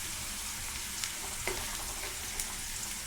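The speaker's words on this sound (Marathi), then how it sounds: "फुल गॅसवर कांदा शिजवून घेऊया।" Onions frying on full gas flame for a prawn pickle, a steady soft sizzle with a few faint stirring clicks, quiet and close with no talking.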